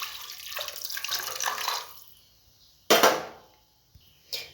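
Water pours and splashes into a pot of green peas curry in a burst of a couple of seconds, followed by a sharp clatter and a brief later splash, with no talking.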